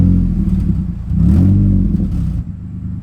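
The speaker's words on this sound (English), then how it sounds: "there's some burbles, but it's gonna sound even better with an actual exhaust" A 2005 Infiniti G35 engine on its stock exhaust, loud and close, with a low revving drone that swells, settles and then trails off into a few burbling pops.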